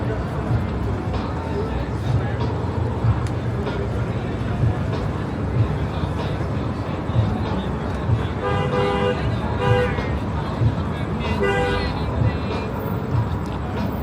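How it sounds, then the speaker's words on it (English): A taxi honks its horn repeatedly on the busy Las Vegas Strip at night, short bursts of toots in the latter half over dense traffic rumble and crowd noise, with people talking nearby. "The taxi kept honking his horn."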